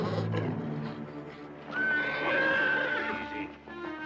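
A stallion tied near a camp lets out a loud, drawn-out whinny that rises and quavers over a low rumbling background, with a faint clip-clop of hooves nearby.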